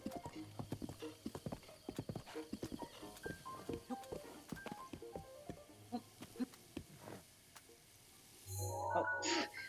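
A horse's hooves clip-clop steadily in Zelda: Breath of the Wild, a fast rhythmic gallop of crisp hits that thins out near the end, followed by a brief whinny-like burst and rustling.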